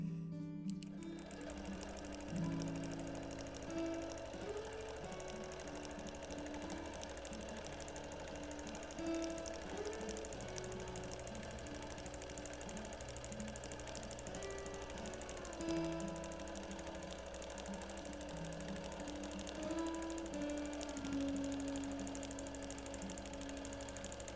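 A quilting machine in manual mode stitches a meandering pattern across a custom quilt, humming continuously up close with a rising and falling motor pitch as speed changes, no voices.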